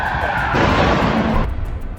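A stolen car skids hard, a harsh roughly one-second tire screech bursting up over road noise, then dropping back to a lower rumble; no distinct crash impact stands out.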